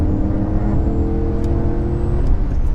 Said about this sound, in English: that V8 will do anything you ask of it